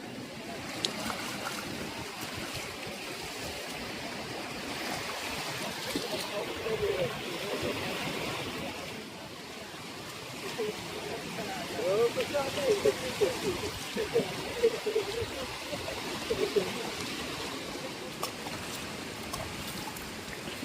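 Water runs steadily in an outdoor stream at a dam while fish are being washed, a continuous broadband rush with splashing swells, and a voice talks intermittently over it.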